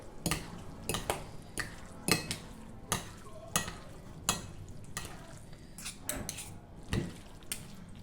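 Kefteji ingredients being mixed with olive oil in a dish, heard as a series of sharp utensil clinks and scrapes at an uneven rhythm, close and moderately loud.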